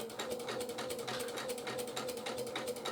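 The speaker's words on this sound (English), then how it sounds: "So let's just keep going a straight stitch." A domestic sewing machine runs a straight stitch with a twin needle, giving a fast, steady mechanical clatter with a low hum underneath, close and fairly quiet with no talking.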